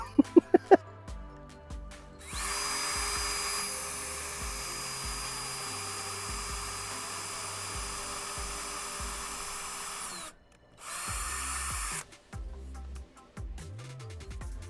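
A power drill boring guide holes while mounting a Eufy S220 SoloCam, a loud whining motor that runs steadily for several seconds, stops briefly, then resumes in shorter bursts, preceded by a few sharp taps.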